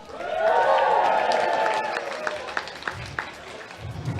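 An audience at a robot fighting league event cheers and applauds, the crowd noise swelling loudly at first and then thinning into scattered claps and whoops.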